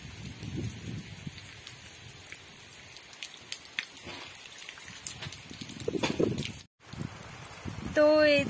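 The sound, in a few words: heavy rain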